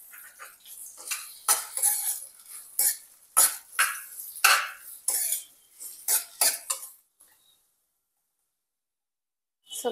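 Onions going into a pot to fry on low heat for one-pot chicken biryani: a run of loud, close clattering and scraping bursts for about seven seconds, then near silence.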